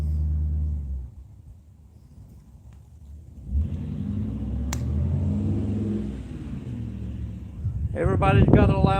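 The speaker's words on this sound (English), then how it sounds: "Everybody's got a loud truck, a loud car." A car engine rumbles and revs nearby, rising in the middle, with a brief voice near the end.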